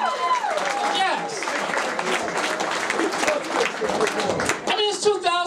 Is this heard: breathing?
no